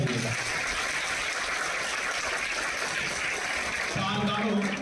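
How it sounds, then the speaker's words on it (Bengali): An audience at a hospital's Critical Care Day celebration gives the teaching staff a big round of applause, a dense wash of clapping that runs steadily throughout with a voice faintly beneath. "আমাদের যারা টিচিং স্টাফ যারা আছে তাদের জন্য আগে একটা বড় হাততালি দিই"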